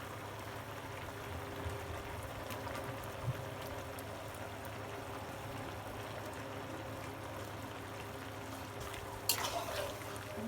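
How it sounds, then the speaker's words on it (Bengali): A pot of curry broth with fish added bubbles at a steady simmer, a close, continuous low hiss and gurgle with a few faint clicks and clatters, with no voices. "তরকারি ঝোলটা ফুটে গিয়েছে, এবার আমি মাছ দিয়ে দেবো।"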